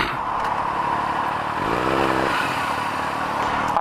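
A 2013 Kawasaki ZX6R 636 sport motorcycle runs close by with a steady, loud engine note that rises briefly as it revs in the middle, then settles back, with no talking over it.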